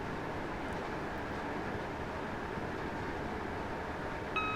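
A BR Class 325 electric train passing on the West Coast Main Line, heard as a continuous, fairly loud broadband rush and rumble that holds steady throughout, with a brief tonal ring near the end.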